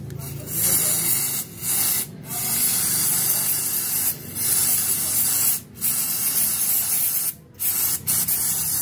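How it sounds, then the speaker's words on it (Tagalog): Aeropack brake cleaner sprayed during car maintenance, loud close hissing bursts repeated several times with short pauses between them. "Ano yung spray? Brake cleaner by Aeropack."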